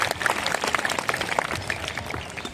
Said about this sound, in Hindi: तो एक बार जोरदार तालियों से अर्नब का स्वागत किया जाए